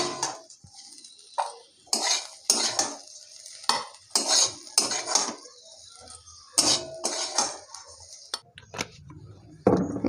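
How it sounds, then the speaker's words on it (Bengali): Fried potatoes scooped out of a frying pan with a metal spatula, producing repeated sharp scraping and clinking strokes at close range, separated by brief pauses, with a faint sizzle of oil. "আলুগুলো ভাজা হয়ে গেছে, আলুগুলো তুলে নেবো।"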